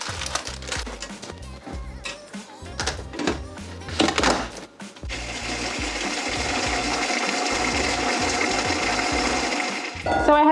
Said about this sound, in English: So we're gonna grind these down and blitz them until they're super,